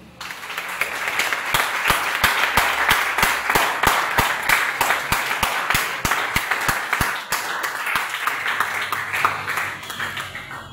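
A church congregation at a deliverance service applauds steadily, with dense clapping and sharp individual claps repeating across the whole stretch, loud and close, with no talking over it.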